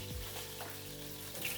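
Onions frying in a pan with a bay leaf during home cooking: a steady, close sizzle runs throughout, with faint stirring knocks and no talk.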